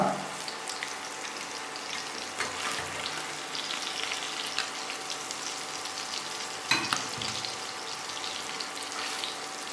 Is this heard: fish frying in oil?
yes